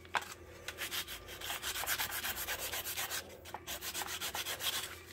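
Hand sanding a poplar wood knife handle without power tools: steady rhythmic rubbing strokes of sandpaper on wood, close and moderately loud, repeating evenly with no talking.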